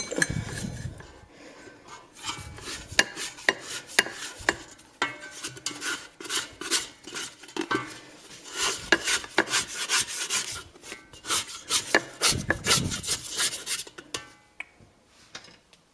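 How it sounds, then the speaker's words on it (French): A spatula scrapes the sides of a stand mixer bowl holding firm bread dough for baguettes, giving a run of raspy rubbing strokes with some sharper ticks and knocks, close and fairly loud, with no talking. "vous arrêtez le robot et vous grattez les bords de votre cuve comme ceci"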